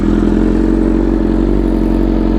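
A 2025 BMW S1000RR sport bike engine runs with a loud, steady idle rumble and mechanical clatter, heard close up without talk.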